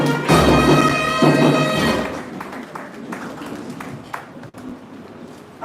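An audience at a live event applauds the president. After a few ringing musical tones fade, a dense patter of scattered clapping fills the room at moderate volume.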